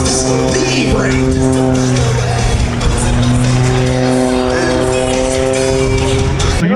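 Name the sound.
vehicle hitting the emergency brake, tires skidding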